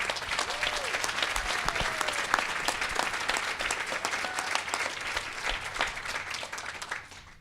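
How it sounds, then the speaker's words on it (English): An audience at a community health event gives a round of applause, a full room of steady clapping that stays even for several seconds before fading out, with some crowd murmur underneath. "So can we just have a round of applause for the courage?"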